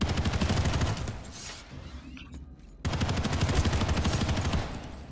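A light machine gun fires in Planetside 2: long, rapid bursts of automatic fire, loud and close, with a short quieter break before the shooting resumes.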